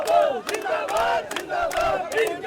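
Protest crowd of students chanting and shouting in unison in Delhi, demanding a resignation, with rhythmic repeated slogans rising and falling in loud, close bursts.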